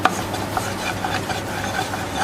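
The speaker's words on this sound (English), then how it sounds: "And keep stirring it." Crawfish etouffee is stirred in a pot, making a steady, continuous scraping and rubbing of a spoon against the pot's bottom, close up with no talking.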